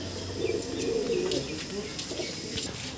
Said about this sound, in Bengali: এটা মাদ্রাসি পায়রা, দেখুন আবলুক লাইনের পায়রা, খুবই সুন্দর পায়রা।